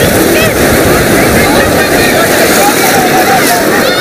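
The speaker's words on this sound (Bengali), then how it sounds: "গোল্ডেন বিচের ঢেউটা দেখো কতটা বড়, দেখো মারাত্মক বড় ঢেউ।" Big ocean waves break continuously at Golden Beach, Puri, a loud, dense roar of surf with wind buffeting close to the shore.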